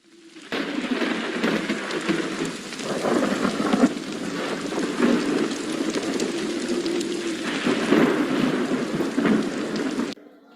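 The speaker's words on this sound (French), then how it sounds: "Merci pour cette pluie." Rain and thunder serve as a sound effect in a theatre play at a drama contest awards event. Steady heavy rainfall hisses throughout while low thunder rumbles swell and roll underneath, loud and continuous, with no voices.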